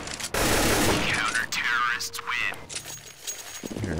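Gunfire in the video game CS:GO crackles out in sharp, rapid bursts, starting with a loud volley and followed by scattered shots and other in-game effects.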